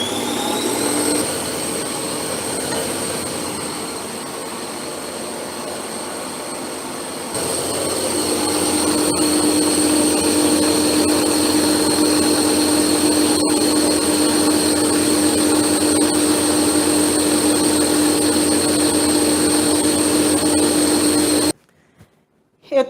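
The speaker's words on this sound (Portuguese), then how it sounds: "Eu tô aqui com o nosso merengue italiano na batedeira." An electric stand mixer whips Italian meringue made with hot sugar syrup, its motor a loud steady whine with a constant hum that rises in level partway through, then cuts off abruptly near the end.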